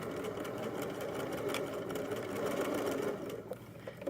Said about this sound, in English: I'm gonna sew right over the same seam and backstitch